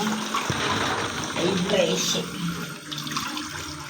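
Water splashes and gurgles steadily as a tank is drained, with a faint voice murmuring underneath.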